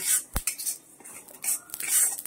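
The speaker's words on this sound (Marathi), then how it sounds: "आता मी उंची शहाजिरी भाजून घेत आहे. ह्याला मी तेल घालणार नाही, अगदी असंच भाजून घेणार आहे." Shahjeera seeds dry roasting in a pan without oil for a Marathwada-style kala masala, giving light scraping, rattling stirs and clinks of a spoon against the pan, close and fairly quiet.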